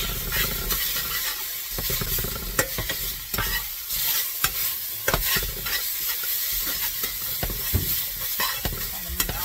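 Ham hash and hashbrowns fry steadily in hot oil in a pan, a dense continuous sizzle broken by repeated scraping and stirring strokes of a utensil, close and fairly loud with no one talking.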